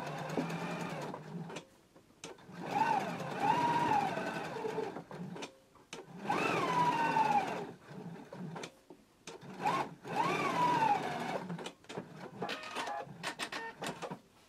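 A home sewing machine runs quarter-inch top stitching on a pants flap, firing in several bursts of rapid mechanical whirring that stop and start with short pauses in between.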